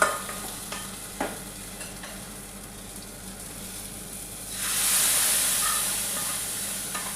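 Roasted coconut is stirred into a pot of jackfruit erissery, with scraping stirs and a steady soft sizzle that swells into louder hissing steam partway through, close and without talk.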